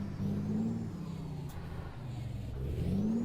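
A truck engine in American Truck Simulator revs up in low rising pulls, dips between them, then climbs again, with a steady drone and faint whir, fairly quiet and without talk.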